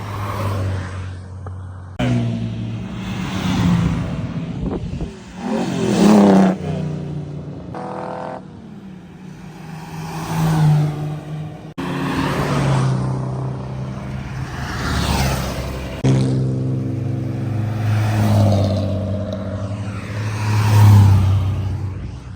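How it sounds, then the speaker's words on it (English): Several supercars, including Gullwings, drive past one after another at Monterey Car Week, engines rising and falling as each approaches and recedes, some revving loudly nearby. "This is going to be like so many cars driving through"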